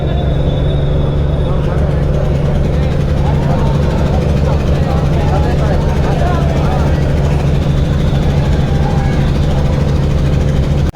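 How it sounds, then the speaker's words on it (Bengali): The Sundarban 16 passenger launch's engine drones loud and steady as the river vessel backs out in reverse gear, a continuous low rumble with faint voices in the background. "সুন্দরবন ষোলো লঞ্চ এখনই আসলে স্পেশাল ট্রিপের জন্য ব্যাক গিয়ার দিয়ে যাবে"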